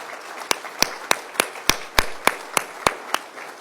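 About ten sharp, evenly spaced claps ring out in a slow, deliberate rhythm, fairly close and distinct over a quiet room background, as a small group of officials at an Arkansas energy discussion is applauded.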